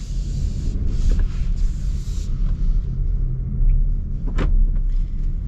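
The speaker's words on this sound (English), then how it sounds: "And let us set off in the CX-30." A 2025 Mazda CX-30 setting off, heard from inside as a low, steady engine and road rumble with a few light mechanical clicks and a brief whir over it, no talking.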